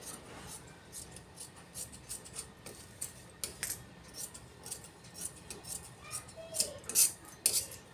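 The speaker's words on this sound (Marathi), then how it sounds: "तर हे दोन्ही भाग आपण कट करून काढूयात." Scissors snip through blouse fabric while a boat neck princess-cut blouse is cut out, producing soft irregular cutting clicks and rustles close by, with faint handling sounds and no speech.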